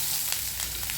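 Onions and potatoes sizzle steadily while frying in a pan for a potato curry, a dense, continuous crackle held close and loud from start to finish with no voices.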